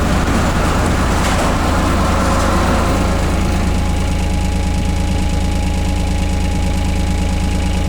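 A small digger's diesel engine runs loud and close inside a garage while the floor is being scraped level, a constant heavy rumble with a brief rise in clatter early on.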